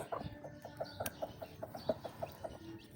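A mother hen clucks softly near newly hatched chicks, a steady run of about a dozen short, evenly spaced clucks, close by but quiet, over faint background noise.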